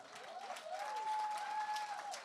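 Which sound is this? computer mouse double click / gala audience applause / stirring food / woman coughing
gala audience applause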